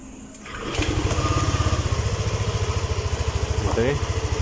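A Yamaha Aerox scooter engine catches after a moment of quiet and settles into a close, steady, pulsing idle, with a brief voice near the end.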